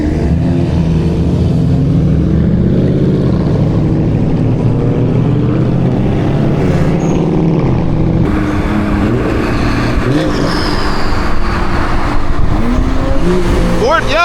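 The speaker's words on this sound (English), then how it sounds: "we about to race that 540 right there" An Infiniti Q50 with a VR30 engine pulls hard on a public road against a BMW 540, a loud sustained engine roar with rising and falling pitch as it climbs through the gears, heard from inside the car.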